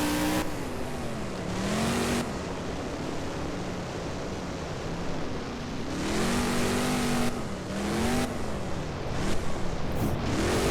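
A monster truck engine in the BeamNG video game revs up and down in a steady drone with rising and falling pitch sweeps during a freestyle run, continuous throughout with no talking.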